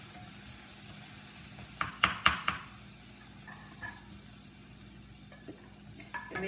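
Onion and chili sautéing in a pan for a potato gravy sabji, a low steady sizzle with a few sharp stirring clatters near the middle and softer scrapes later.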